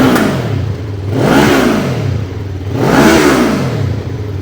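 A Taro GP1 two-cylinder motorcycle with its stock exhaust revs twice up close, each throttle blip rising and falling in a loud growl over a steady idle.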